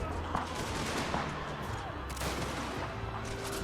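Gunfire volleys crackle through a strategy video game battle, a dense, continuous barrage of overlapping shots with brief louder bursts and deep rumbling underneath, heard close and steady throughout.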